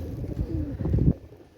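Pakistani teddy and Rampuri pigeons cooing close by, a short burst of soft, low, rolling coos that swell and then fade.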